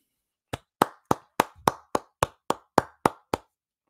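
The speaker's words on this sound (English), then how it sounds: "Round of applause for Wink Martindale." A single pair of hands claps about ten times for a football postgame show, each crisp clap close and separate, at a slow, even pace before stopping.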